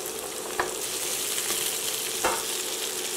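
String beans stir-frying with minced garlic in a hot pan, a steady soft sizzle with a couple of brief scraping stirs, no talking.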